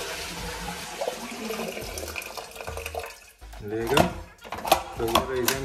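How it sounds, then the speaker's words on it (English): A toilet cistern is flushed to empty it as far as possible while the flush system is being replaced, giving a rushing, gurgling swirl of water. Someone talks over the flush. "now what you do is flush the toilet here so the water is empty as much as possible"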